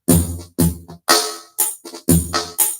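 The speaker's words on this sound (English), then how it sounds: "that's just the Korg Elect Tribe with just a lot of delay" Drum hits from a Korg Electribe drenched in heavy delay, five or six loud bursts in a choppy rhythm with echoing tails smearing between them, played alone without talk.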